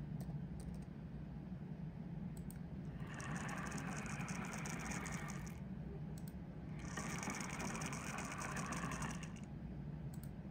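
A lab servo motor running at 500 RPM makes two separate whirring bursts, each a few seconds long, over a steady low hum. The motor sounds faint, and no one speaks.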